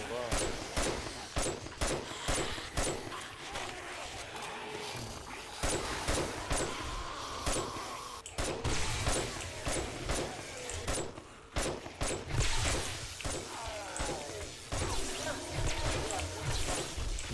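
Shotgun blasts and rapid gunfire fill a competitive video game match, with repeated sharp bursts throughout and a player talking over the action.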